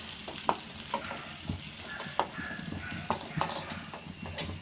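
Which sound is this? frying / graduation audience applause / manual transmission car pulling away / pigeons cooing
frying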